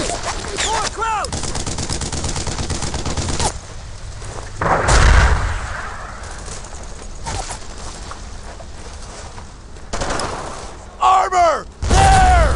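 A battle in the World War II shooter Brothers in Arms: Earned in Blood: dense rifle and machine-gun fire, with a heavy explosion thudding partway through. Shouting soldiers' voices cut in at the start and near the end.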